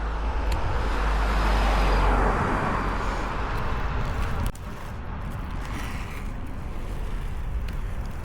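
A car drives past on a downhill road, a broad roar of engine and tyres that swells and then drops off, mixed with wind rushing over the microphone, with no talk.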